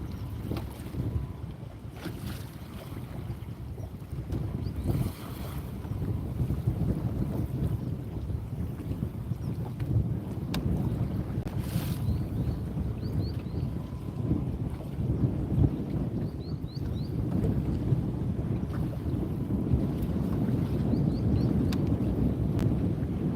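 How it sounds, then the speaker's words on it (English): Strong wind roars across a fishing boat out on the water, a steady, heavy rumble buffeting the microphone for over twenty seconds, with faint creaks and small sounds from the boat beneath it. "That wind is crazy."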